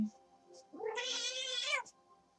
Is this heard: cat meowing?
yes